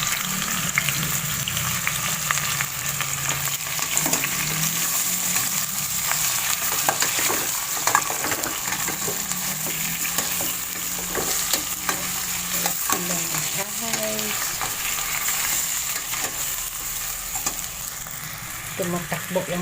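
Constant loud sizzling of shrimp frying in a hot pan, with scraping and stirring noises scattered throughout the long stretch.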